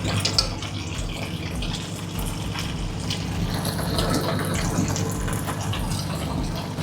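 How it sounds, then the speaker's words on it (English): Tap water runs steadily into a pot of spaghetti cooking on the stove, a continuous gushing pour heard close up, with no talking over it. "I'm gonna add a little bit more water."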